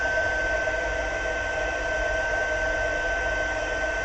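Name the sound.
heat gun heat embossing on vellum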